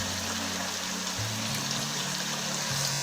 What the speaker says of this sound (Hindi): इसमें पानी ऐड करना है।